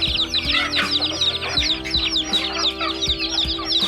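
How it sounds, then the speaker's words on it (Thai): Chickens clucking steadily in a busy flock, overlapping calls close by with a constant low hum underneath. "มีแต่เสียงไก่เสียงกา"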